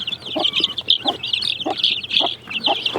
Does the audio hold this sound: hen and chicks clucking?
yes